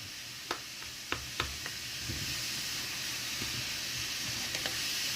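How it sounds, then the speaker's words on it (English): Cauliflower rice for vegan Japanese fried rice sizzles in a pan as it cooks down. A steady, close hiss continues throughout, broken by a few sharp clicks and scrapes from stirring. "we're gonna have to cook this cauliflower down so it chills out"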